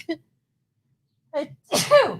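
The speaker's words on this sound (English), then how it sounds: "I have a sneeze coming." A couple of quick breathy intakes followed by one loud, sharp sneeze, close to the microphone in an otherwise quiet room.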